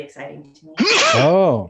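A single loud, close sneeze bursts out right after a short stretch of casual talk, sharp and breathy with a voiced tail, in a podcast studio setting.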